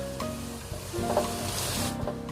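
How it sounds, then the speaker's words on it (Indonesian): Coarsely chopped garlic sautés in hot oil, giving a constant close sizzle with light stirring noises and a faint steady hum underneath, with no one speaking. "Ditumis dulu bawang putih yang sudah dicincang kasar."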